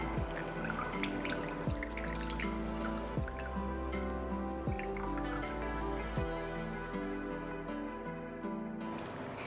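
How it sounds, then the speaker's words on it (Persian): Lemon juice squeezed for homemade ginger soda: steady dripping and trickling with soft squishy sounds over a continuous low background hum. "و حالا یه مقدار هم آب لیمو ترش میگیرم"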